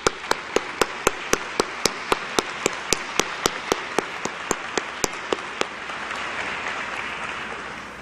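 At a 2013 law school commencement, graduates applaud their families: broad, steady clapping from a big crowd, with one nearby pair of hands striking sharp, regular claps for several seconds before fading into the mass.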